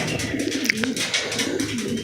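Domestic pigeons in a breeding coop coo steadily, a low, rolling, throaty murmur repeating through the whole stretch at close range, with no talking.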